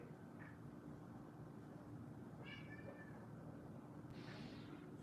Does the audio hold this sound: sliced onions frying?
no